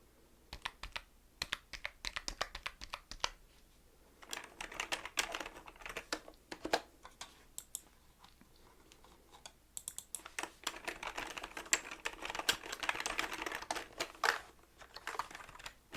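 Soft, irregular clatter of fingers typing on a computer keyboard in a quiet mortgage office, with bursts of keystrokes separated by short pauses and heard up close without talk.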